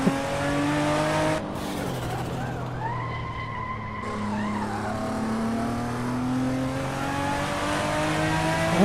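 A toy race car with cold tires roars through a track in the Hot Wheels Unleashed video game. A steady, close engine drone rises and falls in pitch, with a brief tire-squeal skid and a sharp whine partway through.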